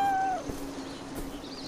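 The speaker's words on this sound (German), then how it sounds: "Hier höre ich auch das Mauzen." A cat meows once in the video game Beyond Eyes, a clear, fairly close, drawn-out falling call at the start that fades into a quiet outdoor ambience.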